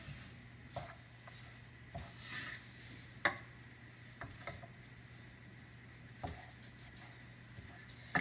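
Ground meat fries quietly in a pan under a low, steady sizzle, while a utensil breaks it up and stirs it in irregular scraping and tapping strokes.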